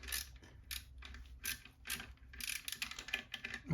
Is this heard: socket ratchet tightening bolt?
yes